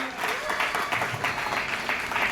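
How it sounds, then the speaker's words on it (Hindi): Applause from the audience at an MK Sports Academy anniversary speech, a steady wash of claps filling the whole moment with a faint voice beneath. "इसके लिए जोरदार तालियां दें"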